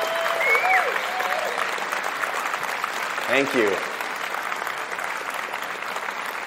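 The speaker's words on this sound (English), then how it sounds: "let's give them a round of applause because they are amazing" Sustained audience applause fills a school-group event hall at a talk on breaking the cycle of religion, with a man briefly thanking the crowd over the clapping.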